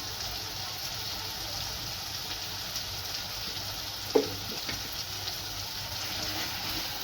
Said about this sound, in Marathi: आता हा मसाला ना मी चांगला परतून घेणार आहे तेल सुटेपर्यंत